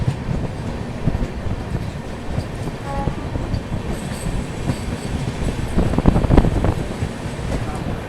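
Mumbai-Howrah AC Duronto express train running and overtaking another train: steady wheel rumble and rail clatter from on board, with faint squeals and a louder swell of passing noise near the end.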